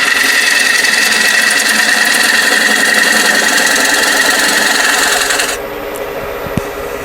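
A wood lathe spins a bowl while a gouge takes light cuts, giving a steady loud whirring hiss with scraping texture that drops away near the end as the cut stops.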